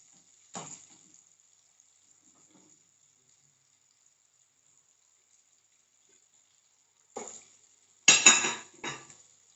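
Chicken wings come out of hot frying oil. There is a faint high hiss throughout and a metal scrape near the start, then clattering utensil and pan knocks toward the end, with quiet gaps between.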